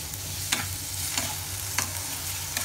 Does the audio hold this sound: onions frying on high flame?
yes